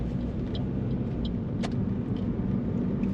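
A car accelerates through a lane change during a beginner driving lesson, heard from inside as a steady, fairly loud engine and road rumble with a brief faint click partway through.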